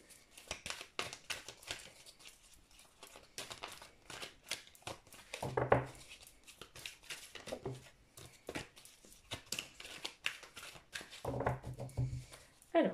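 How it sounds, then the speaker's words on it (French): A deck of tarot cards being shuffled by hand indoors, with repeated soft riffling and flicking bursts and papery slaps spread irregularly over several seconds, close and quiet. "Alors, je vais d'abord mélanger mon jeu."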